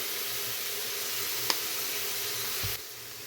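Tomatoes and turmeric frying in a pan for palak paneer: a steady, moderate sizzle hisses throughout, with one brief click near the middle and a soft knock toward the end.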